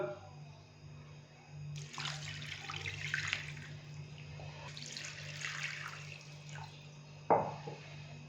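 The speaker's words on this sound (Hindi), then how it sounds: "अभी मैं इसके अंदर पानी डालूंगा।" Water is poured into a bowl of raw chicken coated with salt and vinegar, making two bursts of splashing, running water close by over a low steady hum, and ending with a short clatter.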